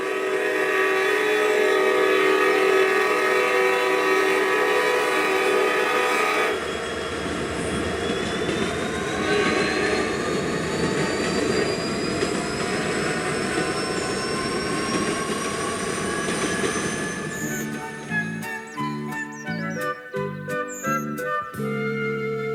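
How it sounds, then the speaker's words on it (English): A train engine rumbles and hums, then its pitch climbs as it pulls away, ending in rhythmic clattering of wheels over rail joints. "coupled up to the long and heavy train and set off"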